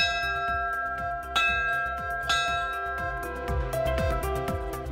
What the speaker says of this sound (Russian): даже ударить в колокол